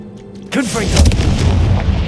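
A Confringo fire spell explodes in Hogwarts Legacy: a rising magical whoosh gives way to a loud, sustained booming blast with crackling rumble filling the rest of the moment.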